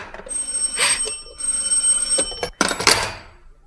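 An old telephone bell rings in a radio drama. There are several separate bursts of ringing, close and fairly loud, with quiet gaps between them.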